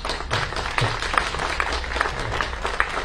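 Steady applause from a crowd at a political campaign rally, many hands clapping densely and continuously at moderate distance, with no voices over it.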